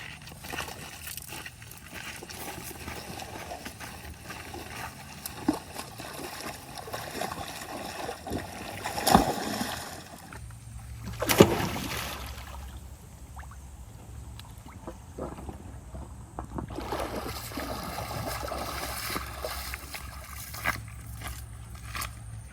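A water pump, to be driven by a 7.5 hp gasoline engine with a 6-inch outlet and a 6-meter shaft, is lowered into water with scraping, knocking and splashing over a steady low drone, a couple of sharper thuds standing out.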